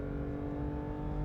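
Porsche 911 GT3 RS, the latest generation, driving on the Silverstone circuit, with a steady, dense engine drone sustained close by throughout and no talk.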